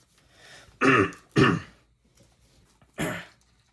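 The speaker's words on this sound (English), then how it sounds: "Had to clear my throat." Someone clears their throat three times, harsh and close, with two rasps in quick succession and a third after a short pause.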